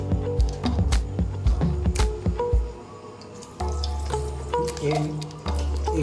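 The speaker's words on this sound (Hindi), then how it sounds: "ये अभी हम लोग चावल धो रहे हैं" Rice being rinsed in water in a home kitchen before cooking fried rice: splashing, swishing and dripping with clinks of grains and a vessel, close and fairly loud, continuing in bursts.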